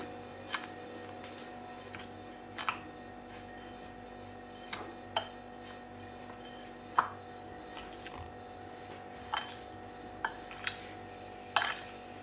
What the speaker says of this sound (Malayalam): ഇവിടെ തേങ്ങയും പഞ്ചസാരയും ഏലക്കായ പൊടിയും നന്നായിട്ടൊന്ന് മിക്സ് ചെയ്ത് വെക്കാം